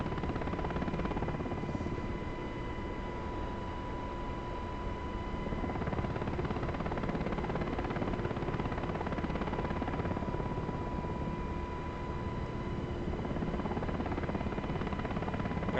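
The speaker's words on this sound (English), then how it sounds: "Very hard to see out of this helicopter sometimes." An MH-60R Seahawk helicopter in the DCS flight simulator drones steadily from inside the cockpit, a dense constant rotor and turbine roar with a faint steady whine, no talk over it.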